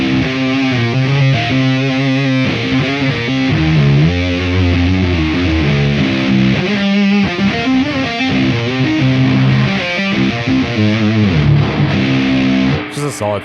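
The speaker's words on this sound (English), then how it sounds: "the Hizu Mitas, I believe it's called, from Earthquaker is the fuzz pedal that I've been using" An 8-string guitar played through an EarthQuaker Devices Hizumitas fuzz pedal, loud and saturated, riffing in sustained distorted chords and rhythmic chugs for over twelve seconds.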